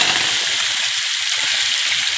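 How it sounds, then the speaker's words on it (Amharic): Meat frying in a pan with oil and butter, a loud, steady crackling sizzle with fine popping spatters running unbroken from start to end, no voices. "ስጋዬን ጠብሰዋለሁ ማለት ነው ጓደኞች"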